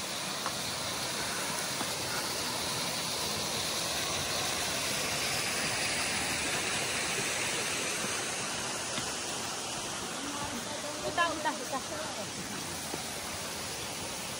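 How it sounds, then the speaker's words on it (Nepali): A hillside stream by Dalsingh on the Mundhum trek route rushes in a steady, broadband wash, loud and close, with a few faint voices and footsteps near the end as trekkers cross. "हामी चाहिँ मुद्दुम ट्रेलको दलसिंह छेउको खोला पार गर्दैछौँ अहिले"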